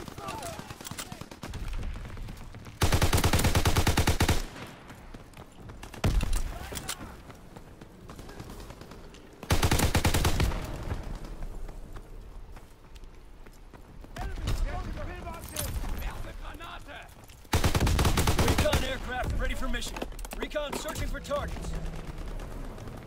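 Bursts of machine gun fire from the World War II shooter game WW2, loud rapid volleys in several separate bursts with quieter gameplay ambience between them, while a player talks over it.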